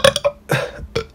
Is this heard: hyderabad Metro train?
no